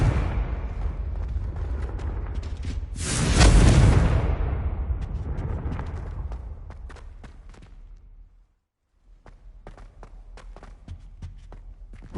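A Confringo fire spell explodes in Hogwarts Legacy on PlayStation 5, a single loud booming blast that swells and then rumbles away over several seconds, followed by quieter footsteps and ambient game sounds.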